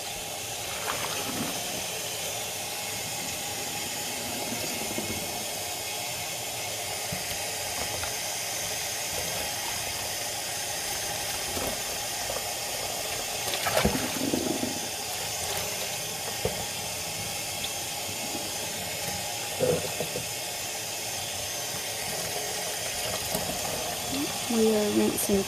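Running water rinses Shetland wool yarn in a sink, a steady hissing wash of tap flow with occasional splashes and clinks, while a voice speaks intermittently over it.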